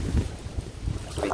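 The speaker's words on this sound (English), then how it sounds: "It's really windy." Gusty wind buffets the microphone along a river during a kayak camping and fishing trip, a steady low roar with no voices.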